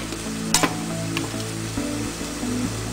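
Homemade potato chips sizzle steadily in hot oil, one pan with olive oil and one with vegetable oil, with a couple of sharp utensil clinks and stirring scrapes near the start over the constant frying hiss.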